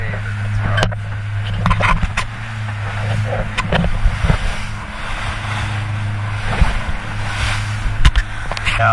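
A homebuilt Surf Scoter 22 boat motors through rough sea at about 8 knots, with a steady low engine drone under continuous wind and water wash and repeated slaps and bangs of waves against the hull.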